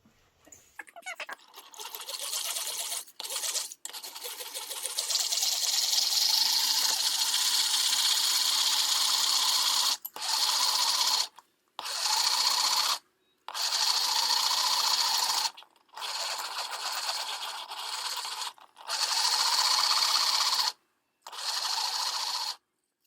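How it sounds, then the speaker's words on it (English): Eggs being beaten for Easter egg bread (Pane di Pasqua all'uovo), a steady whirring and scraping that runs in long bursts broken by brief pauses, fairly close with no talking. "And I need to beat these eggs until they are"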